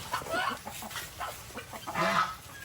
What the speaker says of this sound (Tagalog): Tignan mo yung manok, oh. Yan, bumaba siya.